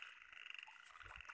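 A frog croaks at night during a crab and frog hunt, a faint, buzzing, rapidly pulsing call close by over quiet background noise.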